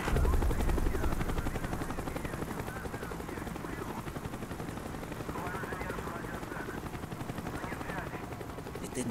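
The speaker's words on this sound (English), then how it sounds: "chopper is coming around again" A helicopter in the Call of Duty Black Ops video game: a steady, fast rotor chop that stays loud throughout, mixed with dense game noise and faint voices.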